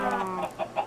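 Chickens clucking on a farm in the Minecraft video game, a few short clucks and a sustained tone in steady sequence, moderately close and fairly quiet with no talk over them.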